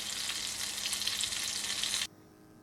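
Breaded chicken for Italian lemon chicken frying in oil, a dense, even hiss of close sizzling that runs steadily, then cuts off abruptly near the end, leaving quiet.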